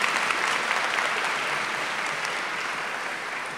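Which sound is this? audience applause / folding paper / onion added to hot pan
audience applause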